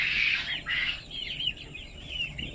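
A flock of Thai native black chickens, big-footed backyard birds about three months old, make a run of high, repeated chirping and clucking calls, close and continuous over a low background hum.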